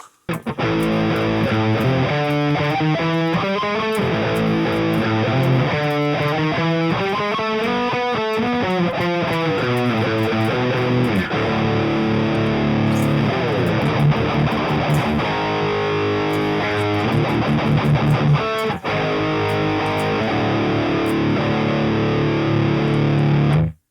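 Heavily distorted electric guitar through the Audio Assault Toney heavy metal amp preset, riffing with sustained chords and moving lines in a thick, saturated metal tone, played alone for the full length.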